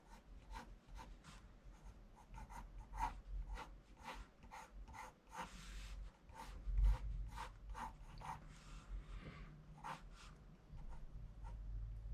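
A blue pencil scratches across paper in quick, loose strokes, a steady run of soft rasping marks close up, made while sketching the cartoon sailor Popeye.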